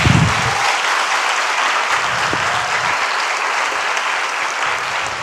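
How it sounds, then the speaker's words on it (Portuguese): Dense, steady applause from a large church congregation fills the space, continuous and fairly loud, with brief murmurs of voices beneath. "Aplauda Jesus"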